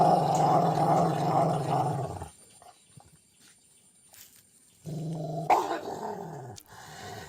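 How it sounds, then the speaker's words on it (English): A dog guarding a bone gives deep, rumbling growls in two sustained bouts close by, separated by a quiet stretch, with a sudden snarl-like burst as the second bout begins. "And this is the resource guarding growl."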